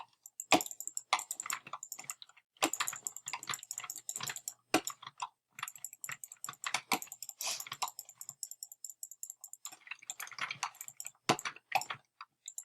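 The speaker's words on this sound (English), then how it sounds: "Sorry if you're hearing my clicking and keyboard. My mouse and keyboard are really loud." Loud computer keyboard typing and mouse clicking during PvP gaming, with bursts of rapid sharp clacks and clicks in irregular rhythm, close to the microphone, no talking.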